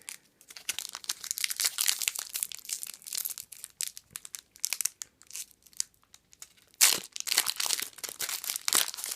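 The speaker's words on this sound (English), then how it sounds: "we'll open the next pack" Crinkling, tearing foil wrapper of a Magic: The Gathering Aether Revolt booster pack being ripped open up close, with irregular crunchy bursts throughout and a louder rip near the end.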